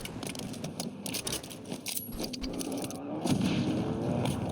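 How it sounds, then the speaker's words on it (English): A fresh magazine reloaded into a weapon in the video game Call of Duty Warzone, heard as quick metallic clicks and rattles with some distant gunfire-like thumps under a steady game background. "Loading new mag."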